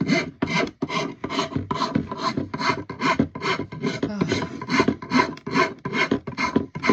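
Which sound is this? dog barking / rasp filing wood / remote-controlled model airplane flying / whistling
rasp filing wood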